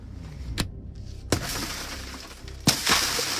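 Car window glass smashed by a police officer during a traffic stop, with three sharp shattering impacts, each followed by falling fragments and tinkling debris, loud and close.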